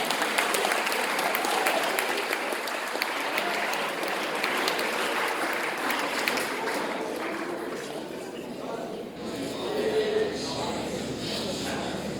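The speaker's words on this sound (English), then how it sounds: "Let's give a round of applause, everyone" An audience at a school inter-house English drama competition in Colombo gives a sustained round of applause, dense and close, with a crowd murmur underneath that thins and softens toward the end.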